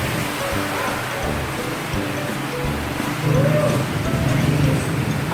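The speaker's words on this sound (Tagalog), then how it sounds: "Umuulan na siya." Rain pours down during a flood in the Philippines, a steady broadband hiss with low rumbling that swells slightly midway, while people talk nearby underneath it.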